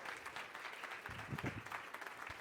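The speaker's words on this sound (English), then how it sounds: "Give Sam a round of applause." An audience applauds at a presentation coaching session, a short spell of soft, distant, continuous clapping.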